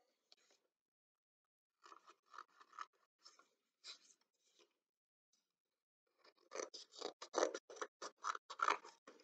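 Scissors snip through paper while making a pop-up Christmas tree card. A few sparse, quiet cuts come first, then a quicker run of close snips toward the end.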